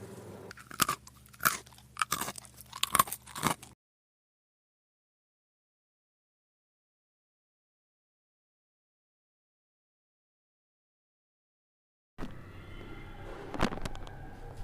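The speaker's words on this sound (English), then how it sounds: "Again he started eating and eating." A child munches and crunches food in rapid bursts of close, crisp bites, then falls silent for several seconds before the chewing and crunching resume, a little softer, near the end.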